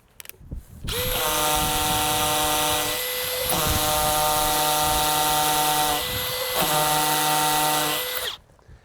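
A hammer drill runs in long, loud bursts with short pauses between, its whining motor and rapid pounding biting into a concrete foundation up close.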